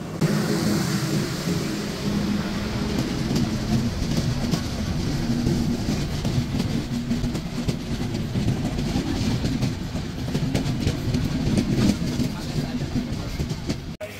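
A Sundarban Express train rolls steadily at Mobarakganj in Bangladesh as it crosses the Benapole Express, a loud, continuous rumble with rapid clickety-clack of wheels over rail joints throughout.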